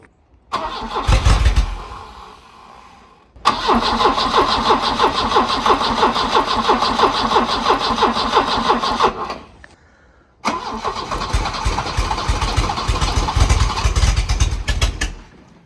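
An abandoned Volvo 240 that is short on fuel cranks and starts, runs with a rough mid-pitched engine note, cuts out, then is cranked again and keeps running, loud and close.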